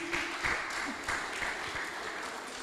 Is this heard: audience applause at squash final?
yes